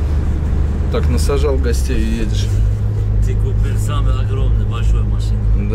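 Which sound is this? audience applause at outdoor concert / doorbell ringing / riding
riding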